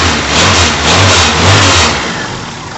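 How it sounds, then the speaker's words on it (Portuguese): A cold 1991 Fiat Uno 1.3 engine revs up close and loud, rising and falling in a few surges over a steady idle rumble, with no voices. "Dá uma acelerada para ele segurar"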